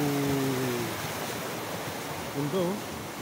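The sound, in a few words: flowing river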